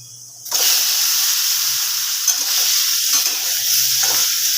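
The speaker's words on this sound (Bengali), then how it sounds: "বাটারটা মেল্ট হয়ে গেছে পনিরগুলো এর মধ্যে ছেড়ে দেব" Paneer pieces drop into hot melted butter, setting off a loud, sudden sizzle that stays dense and steady to the end.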